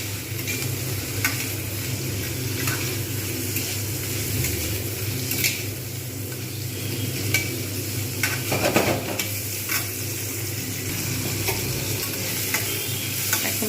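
Mixed fried rice ingredients sizzle in a hot pan on medium heat while being stirred, a continuous close frying hiss broken by scraping and clattering of the utensil against the pan.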